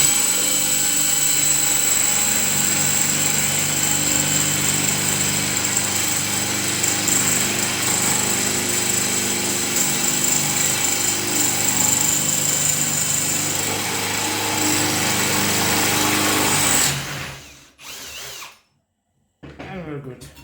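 A Parkside drill bores into wood with a high performance wood drill bit, a loud, steady high whine held for about seventeen seconds before cutting off, followed by a short sputter and silence.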